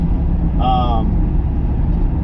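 A Cadillac engine runs after a starter repair, a steady low idling rumble heard close throughout, with a brief voice sound over it partway through.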